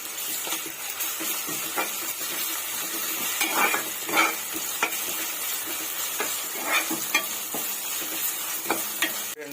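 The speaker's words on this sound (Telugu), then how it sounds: "అది కూడా పచ్చివాసన పోయేంత వరకు ఫ్రై చేసుకుందామండి ఆయిల్లో." Ginger garlic paste frying in hot oil, a soft steady sizzle broken by irregular scraping clicks of a spoon stirring the pan, fairly quiet and close.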